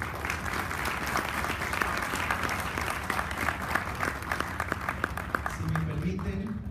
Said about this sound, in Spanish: Vamos a darle un fuerte aplauso al arquitecto Broca Castillo.